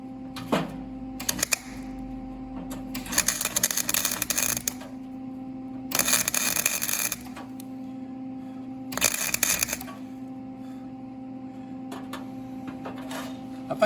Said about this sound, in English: I think that's more of a weld and not a tack.